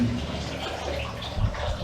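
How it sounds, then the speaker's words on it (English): Water pours steadily from a tap into a backed-up bathtub, a soft continuous splashing and rush at fairly low level, with a voice faintly present underneath. "where the water falls, so it's falling right there, hitting the bottom, spreading out,"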